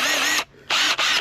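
A Bauer impact drill from Harbor Freight, runnable on a 3 Ah or 5 Ah battery, whirs loudly in three close bursts, a longer run followed by two quick trigger pulls, with no talk.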